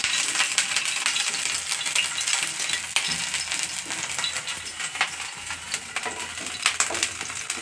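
Onion and green chili frying with ginger in a pan, a steady bright sizzle with crackling pops and occasional clinks of a utensil throughout, no voices.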